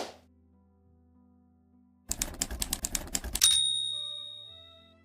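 A manual typewriter clatters in a quick burst of sharp key strikes for about a second and a half, ending with a bright carriage-return bell ding that rings out and fades, close and alone in a quiet room.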